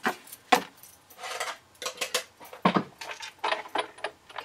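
Cutting pads set into a Big Shot die-cutting machine for paper crafting, with a run of sharp plastic clacks and scraping knocks, several close, distinct impacts spread across a few seconds.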